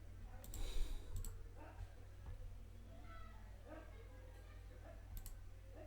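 Faint computer mouse clicks come while a WordPress travel blog website is being edited, a few brief sharp clicks scattered under quiet talking.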